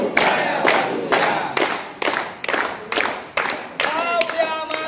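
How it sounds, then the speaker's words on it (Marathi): Hands clap in a steady beat, about two claps a second, during an action song at a primary-school teacher training session, with singing voices joining over the claps. "टाळ्या वाजूया"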